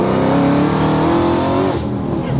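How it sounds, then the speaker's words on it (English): A Terminator Cobra accelerates hard through second gear, its engine roaring loud and close in one steady, continuous pull that eases slightly near the end. "So second gear pull."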